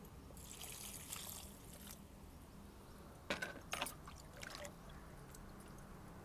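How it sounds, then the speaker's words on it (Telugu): Water poured onto potting soil around a plant after Epsom salt is sprinkled and covered, a faint trickling and dribbling with brief louder splashes midway, quiet and without talk. "కప్పెట్టేసేసి వాటర్ వేసేయాలి"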